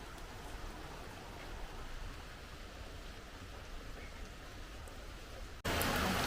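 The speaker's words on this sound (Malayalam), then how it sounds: "വലിയൊരു ഇടവേളയ്ക്ക് ശേഷം വീണ്ടും പെയ്യാൻ തുടങ്ങി. ചെറുതായിട്ട് ചാറ്റലാണ്." Light drizzle after a long dry spell, a steady soft hiss of fine rain close by and fairly even throughout, with no talking.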